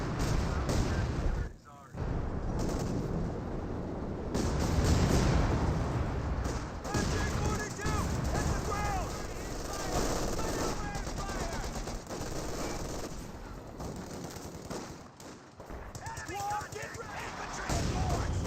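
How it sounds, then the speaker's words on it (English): Light artillery barrage and gunfire in the World War II strategy game Company of Heroes 2, a dense, steady wash of rumbling blasts and rattling shots throughout, with a commentator talking over it. "Another light artillery barrage being brought on the VP."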